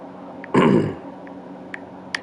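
A man clears his throat once, a short loud rasping burst close to the mic, followed by a few faint clicks in an otherwise quiet room.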